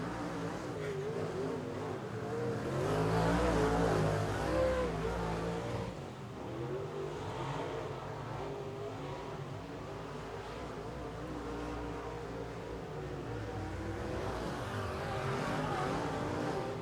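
Sooner late model race cars roar around Tulsa Speedway, engines droning and revving continuously at a steady loud level as the field circles the dirt oval.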